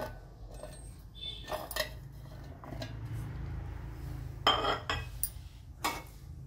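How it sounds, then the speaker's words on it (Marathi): Pieces of roasted raw mango dropped into a mixer jar, several scattered clinks and knocks against the jar at close range, with quiet kitchen background between the hits. "आता आपण मिक्सरच्या भांड्यामध्ये ह्या फोडी टाकून घेऊ।"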